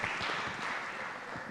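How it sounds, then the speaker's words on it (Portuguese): Congregation applauding at a church service after emotional healing testimonies, a steady wash of clapping that sounds fairly close and lasts briefly, with no talking over it. "Uma salva de palmas, né? Pela vida dos irmãos"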